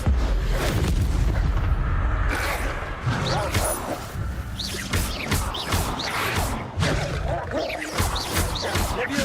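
A spell blast in the video game Hogwarts Legacy, loud booming impacts and crashing bursts amid dense combat noise, with voices shouting over the fight.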